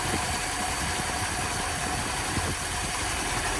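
A 1962 Dodge D200 truck engine idles steadily as it warms up, a close, even mechanical rumble with a constant hiss, no voices.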